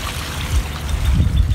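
Rainwater from a rain barrel poured onto a compost pile, giving a low, steady splashing gurgle that swells louder in the second half, close by with no talk.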